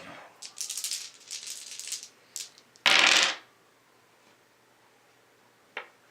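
Dice rattle and tumble across a table during the board game Great Gobbo Grab: a clattering shake, then a loud sharp roll lasting about half a second, followed by a single small click.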